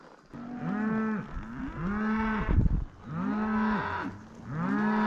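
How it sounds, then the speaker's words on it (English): Several cattle moo nearby during a cattle drive, a series of long, low, overlapping calls one after another with brief pauses between. "I definitely hear some cows up in this direction"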